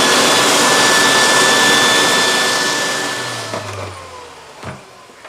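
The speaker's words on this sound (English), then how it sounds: "So I'm going to vacuum" A vacuum cleaner sucks up loose static grass on a model railway scene, a loud steady whooshing drone with a faint whine that winds down and cuts off after about three seconds, leaving a few small clunks.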